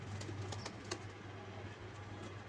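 Soft, low cooing of pigeons repeating in a steady drone, faint and distant, with a few light clicks or wing flutters over a hushed background.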